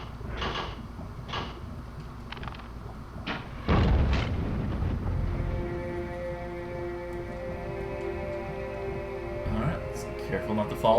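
Explosion in the N64 video game Daikatana 64: a loud, booming blast that breaks in suddenly and rumbles on for a couple of seconds, followed by a lingering droning tone.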